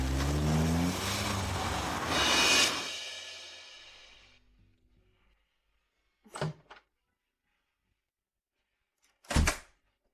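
Car driving fast while chasing the car ahead, a loud close engine rush with rising revs that fades out after a few seconds, followed by two short sharp knocks like door or body thumps in the quiet.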